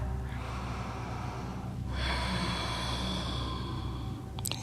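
Breathing during a tension-releasing yoga flow: one long audible inhale followed by a stronger, breathy exhale, close to the listener over a steady background hum.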